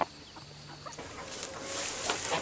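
Farm chickens clucking softly at low volume against a steady background hum, with no talking.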